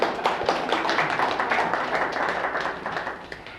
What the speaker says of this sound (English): Clap for yourselves just for making it through this weather.